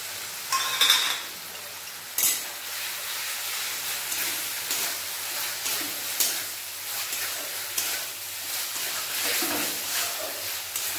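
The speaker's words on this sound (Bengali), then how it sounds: "আলুর সাথে মশলা ভালোভাবে কষিয়ে নেব।" Potatoes and spices stir-fried with a little water in a pan, a steady sizzling hiss broken by scraping stirs and occasional louder bursts of steam.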